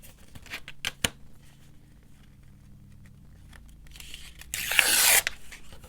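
Paper tearing off the side of a handmade mini hinge journal page, a loud, close ripping burst near the end after some small handling rustles and taps.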